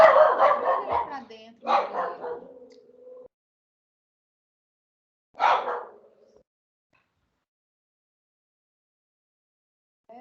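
A pet dog barks in bursts around a home, a quick run of barks followed by a single yelp after a pause, with nearby talk mixed in.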